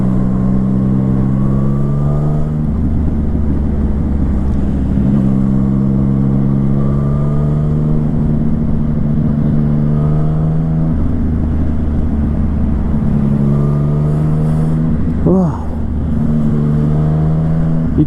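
A Yamaha MT-09 motorcycle engine pulls hard through several gears while riding, rising in pitch, dropping at each shift and climbing again, loud and steady with wind rush throughout.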